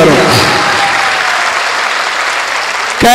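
An auditorium audience at a mushaira poetry gathering breaks into sustained, loud applause, a dense wash of clapping that fills the space and cuts off abruptly near the end.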